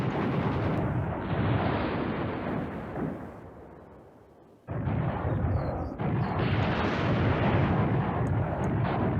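Continuous heavy artillery fire rumbles in the Command Ops 2 strategy game, a dense, loud roar of overlapping booms that dips briefly and then resumes at full strength.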